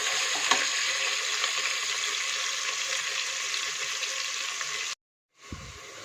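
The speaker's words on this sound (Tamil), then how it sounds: "இப்போ வெங்காயம் நல்லா வதங்கி ப்ரௌன் கலர் ஆகிடுச்சு." Onions with salt sizzle steadily in hot oil, a dense continuous hiss that cuts off abruptly near the end before a brief clatter resumes.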